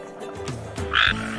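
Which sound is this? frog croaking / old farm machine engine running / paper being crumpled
frog croaking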